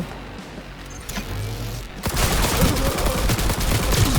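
Gunfire from a gun in Cyberpunk 2077 bursts in after a quieter stretch, a dense, loud rattle of rapid shots that continues to the end.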